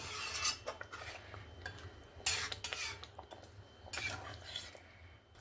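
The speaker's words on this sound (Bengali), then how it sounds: "জলটা দিয়ে ভালো করে একটু নাড়াচাড়া করে দিয়েছি।" A spoon stirs fish curry with mustard paste in a pan after water is added, giving soft scrapes and clinks that are faint and intermittent.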